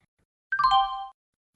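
A single clear bell ding sounds once, struck for a classroom activity; the ringing tone rises sharply and decays over about half a second, alone against silence.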